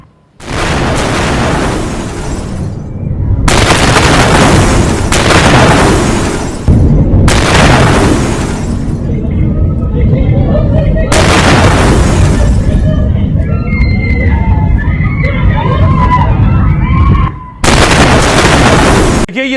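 Loud, heavy booms from an Israeli strike on Hezbollah in Lebanon come in repeated blasts with roaring rumble and crackle between them, and a person talks over part of it.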